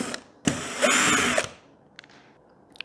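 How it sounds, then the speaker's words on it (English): A power screwdriver buzzes in two bursts while backing out screws from the power switch and sensor assembly of an LG LCD TV, close and loud, followed by a few faint clicks of loose parts. "Then we've got 2 screws to remove here to take the power switch and sensor assembly off."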